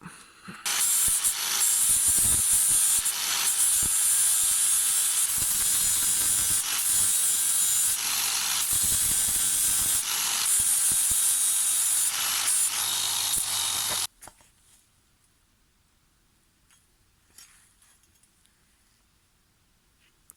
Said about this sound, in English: we'll get our angle grinder and do this little bit